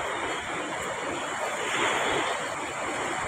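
Sea waves wash continuously onto the shore, a steady broadband surf roar with some wind buffeting the microphone, heard alone without talk.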